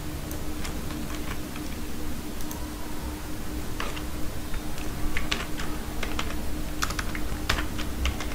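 Steady typing on a computer keyboard, close and crisp, with irregular key taps throughout over a faint electrical hum and no talking.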